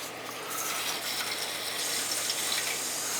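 Water back-flushing through a hose on the return of a gas boiler heating zone, a steady loud rushing gush with gurgling and faint rattling throughout, no voices.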